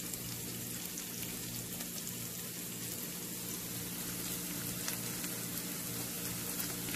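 Onions sizzling in a pan while browning for poha, with salt and turmeric added, a steady soft crackling hiss with tiny pops throughout, faint and continuous with no talk.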